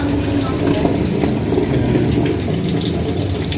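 Water pours continuously into a Samsung automatic washing machine whose water-level control fails to shut off the flow, a loud, steady rushing fill with no pauses.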